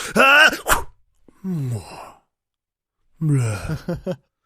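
A voice imitates a tchoukball landing softly, with three breathy, groaning vocal thuds separated by short silences.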